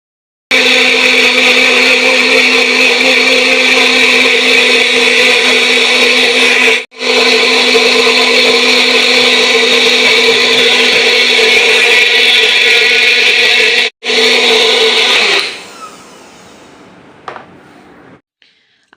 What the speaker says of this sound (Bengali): মিক্সারে বাটিটা ভালো করে লাগিয়ে নেব